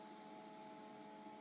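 Hot water runs from a tap into a sink, a faint steady hiss and flow with a constant low hum of plumbing underneath.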